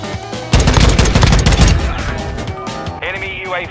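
Loud, close automatic gunfire in Call of Duty Modern Warfare 2 multiplayer as players shoot down a UAV, a dense burst of rapid shots that tails off into game effects, with voices faintly underneath.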